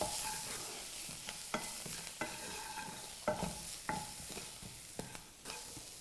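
Onions stirred and sautéed in a pan for a paneer bhurji sandwich, soft steady sizzling with a spoon scraping and clicking against the pan at irregular intervals, close and fairly quiet.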